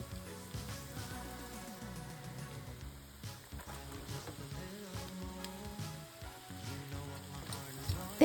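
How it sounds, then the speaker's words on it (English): Carrots sautéing in a pan for a home Christmas lunch, a steady soft sizzle and crackle with light stirring taps, continuous and moderately close. "Now add the carrots and cook for 3 to 4 minutes"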